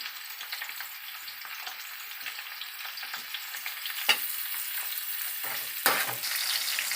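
Drumstick pieces fry in oil on low heat for a curry, giving a soft, steady sizzle and crackle throughout with two brief sharper pops, no voices.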